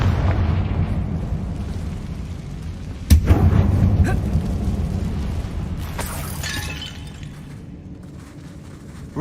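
A fiery Confringo spell blast goes off in the Hogwarts Legacy video game: a sharp, loud burst at about three seconds over a steady low rumble of game ambience, followed by a fainter crackling flare later on.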